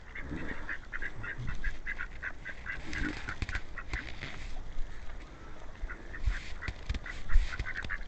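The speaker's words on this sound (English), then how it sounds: "They're all male ducks, aren't they?" Male ducks quack repeatedly in a close, busy flock, overlapping calls and honks forming a steady chattering din with no talk.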